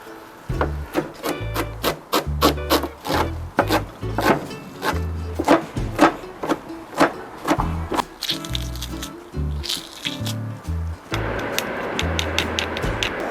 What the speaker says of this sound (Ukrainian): хочу нарізати зелень петрушки та подрібнити часник